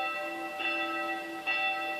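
Church bells ring with a bright, sustained metallic tone, two distinct strikes sounding a moment apart over a lingering hum, heard from a distance.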